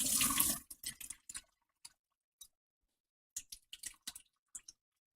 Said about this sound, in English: Okay, you drain the water out of that.